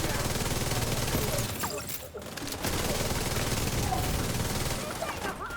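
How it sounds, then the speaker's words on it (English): Rapid gunfire from an unseen enemy shooting at the player from behind in a video game, a dense sustained fusillade under a steady noisy backdrop, with a brief dip midway before the shooting resumes. "I'm like, what's shooting me? From behind."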